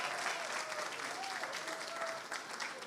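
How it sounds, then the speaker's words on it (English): Sustained applause from an audience at a New York governor's press event, a steady close wash of many hands clapping with a voice faintly speaking through it. "I want to give everybody give another round of applause to Roberta Reardon"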